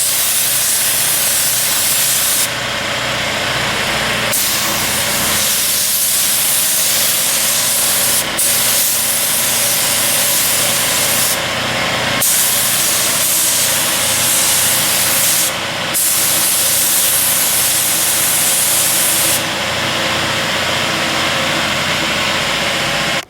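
Spray gun painting a truck headlight housing during a wrecked Ram rebuild, a steady loud hiss of atomized paint running in long bursts with brief pauses, over a constant background hum and no talking.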